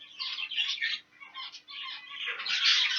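Two young pet birds, around six and seven months old, make rapid chirping and squawking calls close by in a quiet shed, with a faint steady hum underneath.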